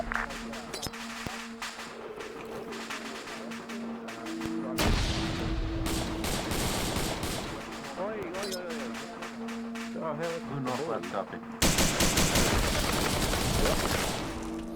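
Sporadic gunfire and grenade blasts in an Arma 3 Vietnam-era combat scenario, with dense bursts of shots and loud booms recurring throughout and sharp heavy impacts near the end; speech is faintly mixed in.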